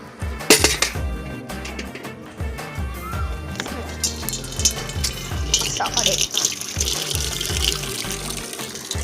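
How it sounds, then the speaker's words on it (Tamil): Steady pouring, splashing water close by as garden plants are watered, with clinks of metal or dishes mixed in and no speech. "நான் செடிக்கு தண்ணி ஊற்ற போகிறோம்"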